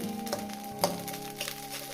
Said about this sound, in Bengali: দেখছেন তো আমি কীভাবে ভাজছি